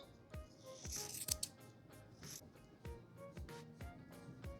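Scissors trimming the glued edges of handmade cat ears, a series of close, crisp snips at irregular intervals with light rustling of material between cuts.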